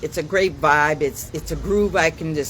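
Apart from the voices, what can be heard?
No everyday noises stand out.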